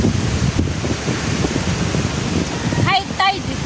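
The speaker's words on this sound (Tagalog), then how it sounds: "Sa baybayin ng dagat." Pacific Ocean waves washing the shore at high tide, a continuous loud rushing surf mixed with gusty wind on the microphone, with a voice briefly heard near the end.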